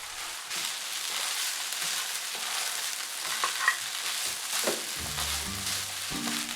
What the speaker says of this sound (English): Turn up the heat and occasionally stir for 2 minutes.